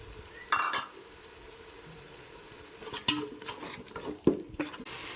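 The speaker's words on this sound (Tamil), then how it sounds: "நம்ம ரெடி பண்ண மசால் பூரா போட்டு எண்ணெயில் நல்லா மெர்ச்சாகி வெந்துருச்சு இந்த ஸ்டேஜில் பார்த்தீங்கன்னா நல்லா சல சலசலன்னு ஒரு சவுண்டு கேட்குது" Chettinad chicken biryani masala with ginger, garlic and shallot paste sizzles in oil under a steady low crackle, with a few sharp clinks and scrapes of a stirring spoon against the pot.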